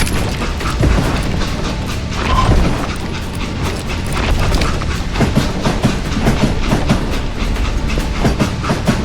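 A train in Call of Juarez: Gunslinger rolls steadily and loudly, with continuous rumbling, clattering wheels and metallic knocks and rattles running throughout.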